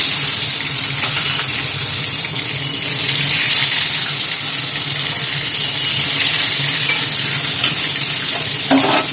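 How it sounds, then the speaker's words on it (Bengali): Bhola fish pieces frying in mustard oil in a wok over lowered heat, a steady, dense sizzling hiss that runs unbroken and fairly loud, with no talking. "কড়াইতে টুকরে এবার আমি মাছটা দিয়ে দেবো"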